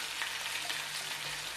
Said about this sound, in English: So we'll give them a little stir. Make sure that we're getting all that flour cooked